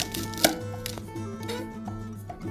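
A knife chops fresh spinach leaves on a board in a quick run of close, crisp cuts, with one sharper knock near the start and no voices.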